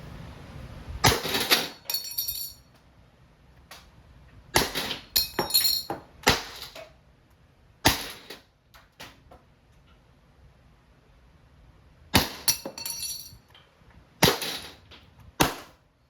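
An Umarex T4E TR50 .50 caliber tactical airgun revolver fires rubber balls in sharp, loud cracks, some in quick bursts, separated by quiet gaps with mechanical clicks.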